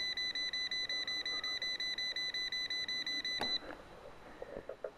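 A voltage tester held at a powered wall outlet beeps rapidly and evenly in a fast train of shrill pulses, then stops abruptly, leaving faint handling noises.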